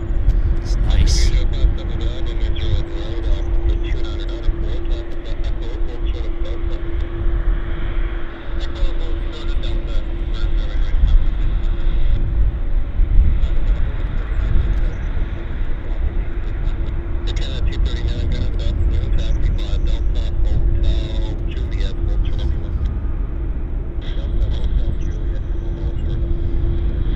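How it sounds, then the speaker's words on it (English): Large airliners taxi at Vancouver Airport, producing a steady, loud low rumble and jet whine that runs through the whole stretch, with a persistent tonal hum and some passing road-vehicle noise mixed in. "I never get tired of looking at these large aircraft trundling along."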